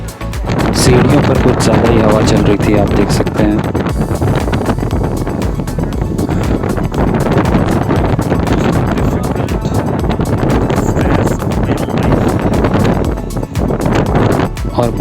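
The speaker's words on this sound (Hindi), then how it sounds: "सीढ़ियों पर कुछ ज़्यादा ही हवा चल रही थी, आप देख सकते हैं।" Strong mountain wind gusts across high-altitude stone stairs near Gurudongmar Lake in Sikkim, a loud, continuous roar and buffeting against the microphone throughout, with faint voices underneath.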